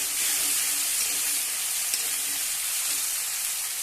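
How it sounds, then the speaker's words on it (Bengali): Boiled potatoes hitting hot mustard oil in a pan give a steady, close, bright sizzle that holds at an even level throughout, with no voices. "আমি দুটো সেদ্ধ করে রাখা আলু দিয়ে দিচ্ছি। দেবো আর 2 চামচ সর্ষের তেল।"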